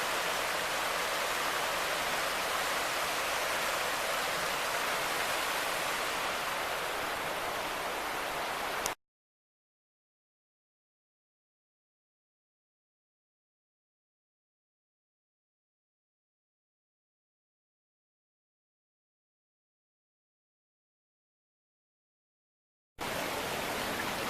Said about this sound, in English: There's the Rapidan River.